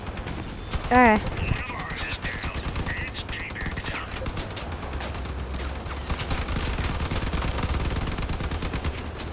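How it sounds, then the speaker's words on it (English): Gunfire bursts from the Crossout vehicle combat game ring out as a rapid crackle of shots under game engine noise, with someone briefly speaking over it and a horse-like whinny sound early on. "Fire the burst of bullets."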